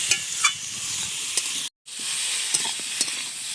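Catla fish pieces sautéing with salt and turmeric in a pan, a steady close sizzle with occasional spoon scrapes, broken by a brief silent gap midway before the hiss resumes.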